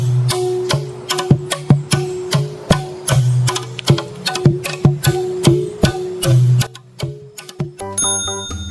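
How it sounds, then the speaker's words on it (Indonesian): A guoto, a traditional plucked instrument from West Papua made of dried bamboo, plays a steady run of short, sharp plucked notes in a regular rhythm, close and clear, ending with a brief ringing tone. "Guoto adalah alat musik petik tradisional yang berasal dari Papua Barat,"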